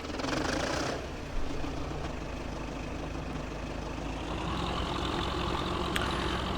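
Tractor engine in Farming Simulator 15 running as a loud, steady low rumble, with a brief rise near the start as it turns over, then a constant droning idle alone.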